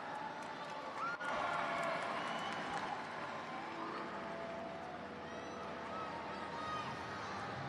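A Monster Jam arena crowd in Edinburg, Texas roars and cheers in a dense, sustained wash of noise, with an announcer's voice echoing through the venue.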